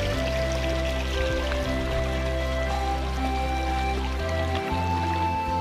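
A small rocky stream flows steadily throughout, continuous watery trickle and burble with faint drips, unbroken and even from start to finish, no voices present.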